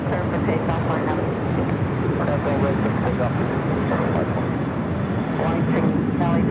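An airliner at Los Angeles airport rolls for takeoff, its engines giving a steady, loud roar with wind buffeting, while radio chatter plays over it.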